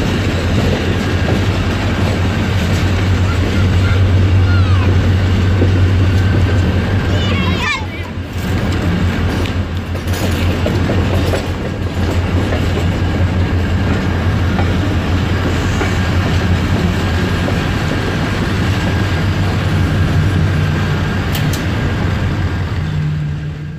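A Karachi Circular Railway train runs into Airport railway station, with steady low rumble and wheel clatter throughout, a brief screech of brakes around the middle, and faint voices in the background.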